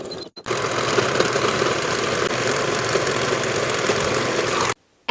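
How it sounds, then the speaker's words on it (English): A sewing machine stitches a peplum onto a bodice with a 3/8 inch seam, a continuous rapid mechanical whir and rattle that starts after a brief pause, runs steadily for about four seconds, then cuts off abruptly. "sew with a 3/8 inch seam allowance"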